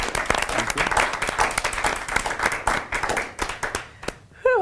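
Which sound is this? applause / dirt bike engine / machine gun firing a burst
applause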